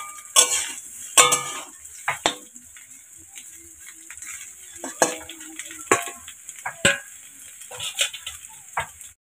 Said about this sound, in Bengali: এদিকে ডাঁটাও আমার অনেকটাই ভাজা হয়ে গেছে